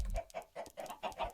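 Chickens in the Minecraft video game cluck in a quick, regular string of about six short calls, close and clear with no talk over them.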